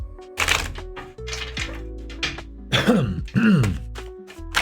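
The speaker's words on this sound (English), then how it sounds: "the cough out of nowhere" A sudden throat-clearing cough cuts through amid clattering, thumping sounds and a sustained musical tone in the background.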